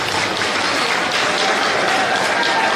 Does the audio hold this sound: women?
yes